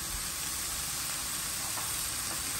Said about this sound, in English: So just let that bacon fry.